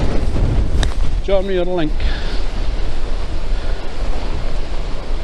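Strong coastal wind buffets the microphone on a seaside walk from Dunbar to Dunglass, a loud continuous low roar throughout, with a brief spoken phrase early on.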